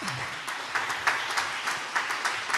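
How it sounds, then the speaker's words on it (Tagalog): A church congregation at a Filipino preaching service bursts into loud applause, a crisp clatter of many hands with rhythmic surges roughly every half second, close and continuous with no talking over it. "Palakpakan natin ng malakas na palakpak."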